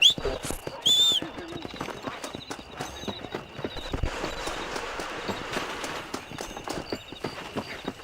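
Horse hooves clip-clopping in the video game Red Dead Redemption, a steady rhythmic trot close by, with occasional speech and game sounds over the hoofbeats.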